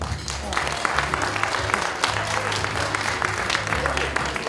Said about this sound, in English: let's give a warm round of applause for our sax player